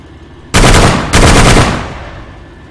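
Loud gunfire from a weapon shooting at an AI enemy in the military video game Arma 3: two close, heavy bursts in quick succession, the second rolling off into a fading echo.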